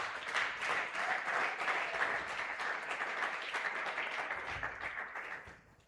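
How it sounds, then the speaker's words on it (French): Congregation applauding during a Pentecost church service, a dense, steady round of clapping by many hands that fades slightly toward the end. "Acclame encore pour Jésus"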